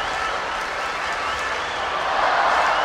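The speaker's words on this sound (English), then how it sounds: "the crowd are going absolutely wild" A crowd applauding and cheering at a sporting event, a continuous wash of clapping and roar that swells slightly toward the end, heard at a distance with no clear voices.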